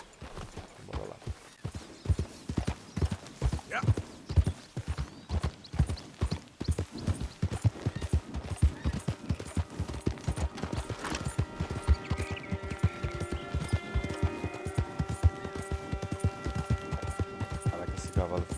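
Horse hooves clip-clop at a steady walking rhythm in Red Dead Redemption 2, close and prominent, with someone talking over them and a brief whinny-like tone near the end.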